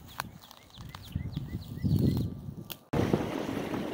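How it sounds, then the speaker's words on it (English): Breezy wind of about 20-25 km/h gusting across the shore of the Bay of Quinte at the end of a trail, a steady rumbling buffet that swells and then jumps louder near the end, with no talking. "a 20-25 kilometer an hour wind blowing up right on the Bay of Quinte"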